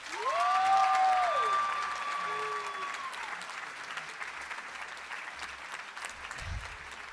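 Loud, sustained audience applause at a youth judicial trial awards event opens with a couple of rising whistles, then settles into an even, continuous roar of clapping.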